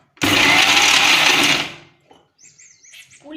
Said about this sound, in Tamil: இது மிக்சியில் விட்டு நல்லா சுற்றிடலாம்